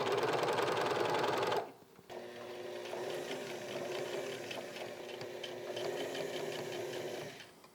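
A sewing machine hems the bottom of grey plaid pants, running fast and loud, pausing briefly, then resuming with a steady, slightly slower mechanical whir and rapid stitching patter for several seconds, close up and with no talking.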